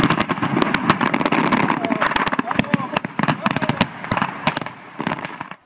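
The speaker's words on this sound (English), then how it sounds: "A number of fireworks shells exploding just feet from the ground." A dense barrage of fireworks shells bursts just feet above the ground at a Simi Valley fireworks show that went wrong, with rapid, loud cracks and booms close by while people shout and talk.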